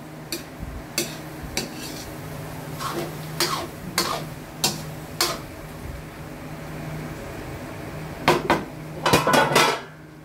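A spoon stirs bopis with vinegar in a metal pot, sharp scraping clinks coming in scattered bursts, a cluster near the end, over a quiet kitchen background.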